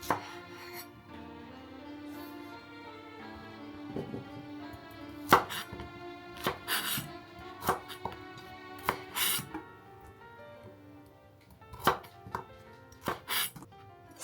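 A kitchen knife cuts rakkyo shallots on a cutting board in irregular, crisp chopping taps, close and clear over soft background music, with no talking.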